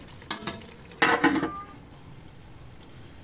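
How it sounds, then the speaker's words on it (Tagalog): Filipino pakbet vegetables are stirred in a pan in two short scraping bursts over a low sizzle. Quiet simmering follows. "haluin muna natin ulit tapos saka natin siya takpan"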